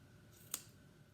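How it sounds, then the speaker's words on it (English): A single quick snip of scissors cutting through yarn pom-pom loops, one faint sharp click in a quiet room. "this is depending on how sharp your scissors are, but we're going to cut all of these pieces right at the center on both sides."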